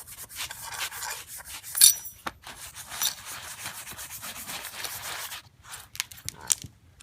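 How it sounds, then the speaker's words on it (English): An alloy wire brush scrubs aluminum before brazing with quick, irregular rasping strokes, close and moderately loud, with small pauses between bursts of scrubbing. "You're going to want to get your alloy brush down, nice and good."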